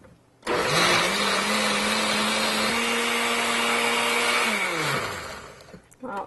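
A blender runs steadily, whirring loud and continuous as it purees cashews into a creamy cheese sauce for macaroni, its motor pitch holding even for about four seconds before winding down and stopping.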